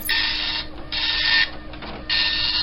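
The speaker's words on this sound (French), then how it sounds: "L'impression matricielle, des petites aiguilles frappant un ruban encreur dans un raffut infernal." Dot matrix computer printer of the 1980s-90s, its pins striking an inked ribbon, printing in loud buzzing bursts, three passes broken by short mechanical pauses.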